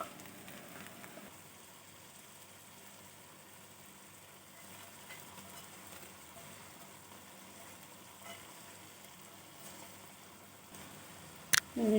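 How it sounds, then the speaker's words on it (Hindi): A hot baghar tempering is poured over eggplant curry, giving a steady, soft sizzle and crackle that stays fairly faint and even throughout, with a brief clatter at the very end. "अब इसे हम बैंगन के सालन पे डालते हैं।"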